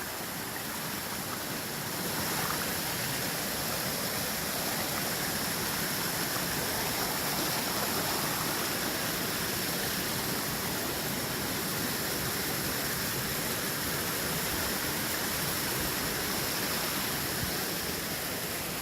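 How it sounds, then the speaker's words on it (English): Deer Creek rushes along the Pacific Crest Trail between Mount Shasta and Grizzly Peak, a steady, full, close roar of flowing water that stays even throughout, with no voices. "this is Deer Creek"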